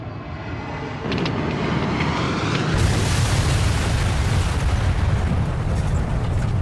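A small plane crashes onto a lake, heard as a loud, sustained roaring burst of noise that swells partway through and keeps going to the end, with no talk.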